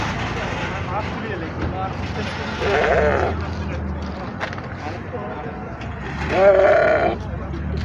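Goats bleat twice at the Aziziya goat market, a short call then a louder wavering one, over a busy background of crowd murmur and outdoor noise.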